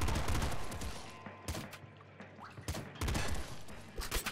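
Bursts of rapid gunfire from the triple blood gun in the Nuclear Throne video game crackle in short volleys, with gaps and smaller blips of game effects between them, fairly quiet overall.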